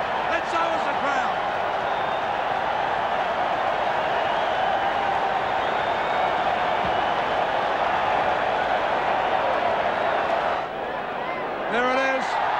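Dense, steady crowd roar fills a stadium at a 1988 State of Origin rugby league match between Queensland and New South Wales, loud and continuous throughout with a commentator talking over it.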